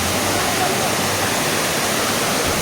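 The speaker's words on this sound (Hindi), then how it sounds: "झरना बहुत ही ज़्यादा बड़े, बहुत ही ज़्यादा। लगभग ना झरना की ऊंचाई हुई 80 फीट हुई।" Andhiyar Jhola waterfall, roughly 80 feet high, gives a steady, loud broadband roar of falling water heard up close, continuous and unbroken with no voices.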